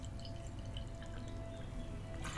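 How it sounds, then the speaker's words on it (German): Water is poured into a glass in a quiet indoor room, a soft, steady trickle lasting about two seconds that ends in a small splash. "Ich schenke mir gerade mal wieder Wasser ein"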